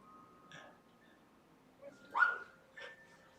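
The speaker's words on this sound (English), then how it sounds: "That's just the neighbor walking their dog" A neighbor's dog out on a walk gives a few faint, distant barks and yips, spaced out over a quiet background.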